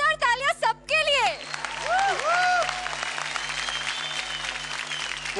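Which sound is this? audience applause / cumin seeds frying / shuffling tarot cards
audience applause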